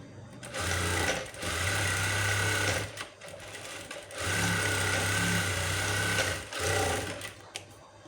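A sewing machine stitching a blouse, its motor whirring in about four close, even bursts separated by short pauses.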